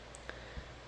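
Computer mouse clicking on a link: a couple of faint, sharp little clicks spaced a fraction of a second apart in a quiet room.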